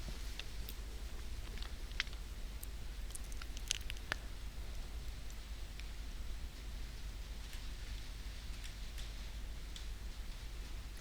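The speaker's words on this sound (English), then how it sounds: "Sounds like it's raining outside." Steady soft rain hiss with scattered light drips and patters, heard faintly as if from indoors, no voices.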